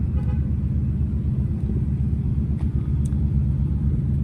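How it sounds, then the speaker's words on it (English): Thunder from a storm under an enormous black cloud, a continuous deep low rumble rolling steadily and fairly loud across the whole stretch, with no voices. "And it is thundering."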